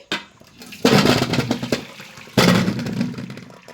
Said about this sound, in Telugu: ఉడికిపోయిన తర్వాత వీటిని ఇట్లా వడబోయాలి